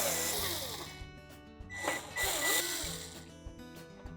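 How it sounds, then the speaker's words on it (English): Four Phillips head screws come out of a Frigidaire range control panel, a faint, intermittent whir of a driver spinning in short bursts with small clicks between, quiet and close. "we'll remove those 4 Phillips head screws"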